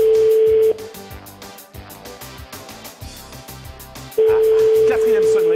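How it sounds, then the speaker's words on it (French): A steady electronic telephone ringing tone sounds, stops, and returns after a pause of several seconds, with softer background sound in between. "Quatrième sonnerie"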